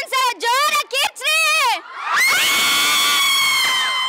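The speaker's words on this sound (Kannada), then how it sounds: "ಪವರ್ ಸ್ಟಾರ್ ಅಪ್ಪು ಅಭಿಮಾನಿಗಳು ಜೋರ ಚಪ್ಪಾಳೆ" A college crowd at AVK College, Davanagere cheers loudly for Power Star Appu, a sustained burst of shouting and whooping that follows a few seconds of amplified voices.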